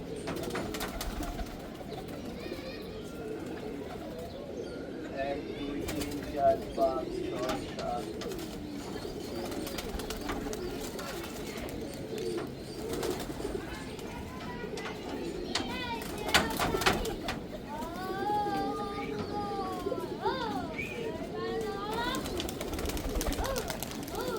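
Male and female pigeons coo together in a loft after being let out, steady low cooing running throughout with occasional wing flutters and faint background voices.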